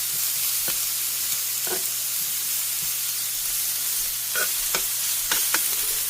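Bacon and cheesy French toast fry on a hot griddle with a steady, loud sizzle. Occasional scrapes and taps of a utensil moving pieces around sound close by, and no one speaks.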